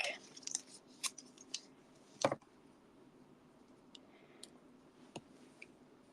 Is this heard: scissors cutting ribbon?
yes